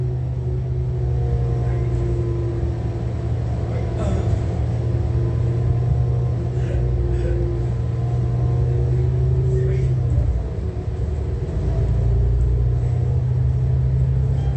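Riding inside a city bus in traffic, with a steady low engine rumble and road noise throughout, faint rattles and passing sounds over it, and no clear talk.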